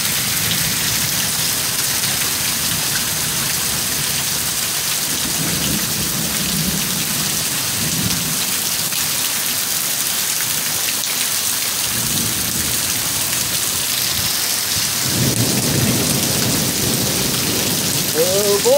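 Steady heavy rain pours down continuously, with low rolling rumbles of thunder swelling in and out, including a louder crack near the end.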